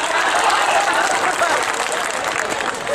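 Loud, sustained applause from a large crowd cheering Mohibul and his team, many hands clapping in a dense continuous roar, close by, with voices blended into the noise.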